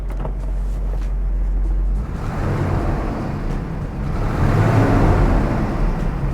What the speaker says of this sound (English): I'll show you some revs here.